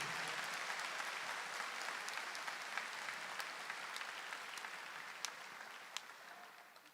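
Church congregation applauding steadily for about seven seconds, a dense wash of claps that slowly fades toward the end, with a few sharper claps standing out.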